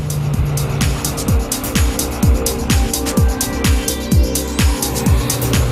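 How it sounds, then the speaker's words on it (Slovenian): A 2010 Mitsubishi Lancer Sportback with a 1.8 petrol engine driven hard through corners: a fairly loud, steady engine note with repeated rhythmic tire squeals as it takes bend after bend, no voices. "Bencinski motor se zelo rad vrti, je še kar glasen"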